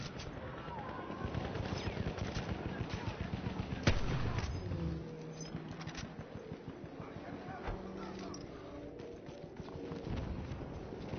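Gunfire in Battlefield 1 on a battlefield: dense, continuous shooting and blasts with a heavier crack near four seconds, mixed with game noise and background voices.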